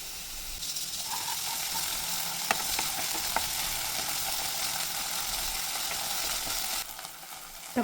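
Onions and ginger-garlic paste fry in butter in a pan for pav bhaji, giving a close, steady, loud sizzle with faint stirring scrapes throughout and no voices.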